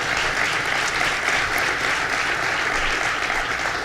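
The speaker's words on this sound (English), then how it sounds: "let's give a round of applause to our great Secretary of State" An audience at a bill signing in Brentwood applauds the Secretary of State with a loud, sustained, even roar of clapping from many hands, no voices standing out.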